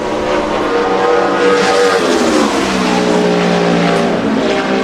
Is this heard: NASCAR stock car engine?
yes